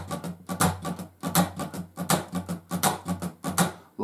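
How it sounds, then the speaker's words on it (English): An acoustic guitar strums open chords in a fast, driving train rhythm. Muted scratches alternate with ringing strums in a steady chugging pattern, played close and alone. "You could play it using open chords like that in a train strum"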